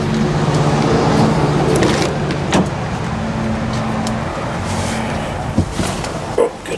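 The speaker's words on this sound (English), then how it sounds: "Let's see if we have an improvement in cranking RPM." An Infiniti QX engine cranks over on a new battery with a steady, rhythmic starter churn that runs continuously for several seconds at moderate loudness, with a few clicks and knocks.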